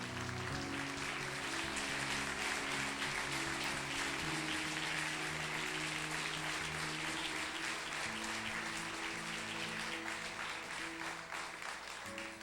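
Church congregation clapping and praising at a Thursday worship service, a continuous wash of applause mixed with sustained music or organ tones underneath, steady and fairly loud throughout.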